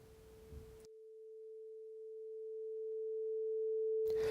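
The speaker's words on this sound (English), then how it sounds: "finally switch the test tone on. Raise the tone volume to a comfortable audible level" An audio interface plays a test tone, a pure steady sine that holds alone for about three seconds and grows gradually louder, with brief background noise before and after it.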